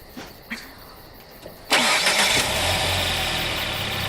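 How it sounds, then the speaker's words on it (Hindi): A car engine cranks and catches at about 1.7 seconds, then settles into a loud, steady idle after a few faint clicks and thumps, with no talking. "क्या तुम इंजन चालू कर सकती हो?"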